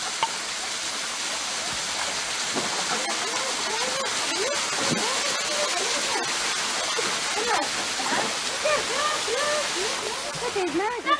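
A river in rural Morocco, back in its bed after late-October rains, rushes steadily with a broad, continuous hiss and splashing close by, with faint voices mixed into the water noise.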